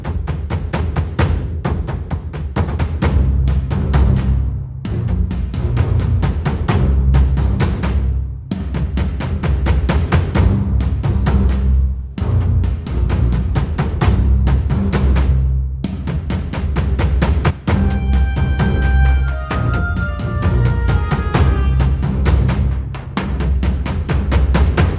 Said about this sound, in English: let's have a quick listen to how Maliki drums sound